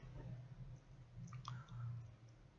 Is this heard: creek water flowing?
no